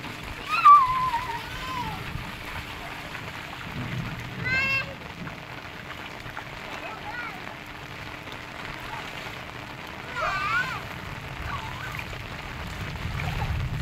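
Steady rain pours on a rooftop terrace while children play and splash in it, their excited voices and adult calls rising repeatedly above the constant wet hiss.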